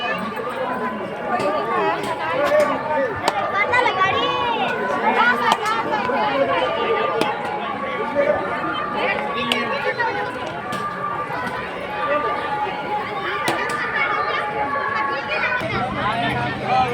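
A crowd of worshippers returning from darshan at a village Shiva temple on Mahashivratri fills the air with continuous babble and chatter, many voices close and overlapping with scattered clatter throughout.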